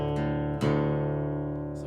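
Electric guitar in drop D tuning playing a song, with sustained ringing chords, a fresh strum partway through and no talking.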